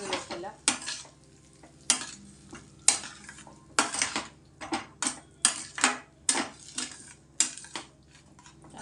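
Marinated okra for masala bhindi being stirred in a pan, with repeated scraping strokes of a utensil against metal in an irregular rhythm over a steady low sizzle, close and fairly loud.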